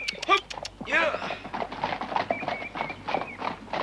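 Horses' hooves clip-clop in an Indonesian radio drama, with a whinny and rhythmic steps under a voice speaking throughout.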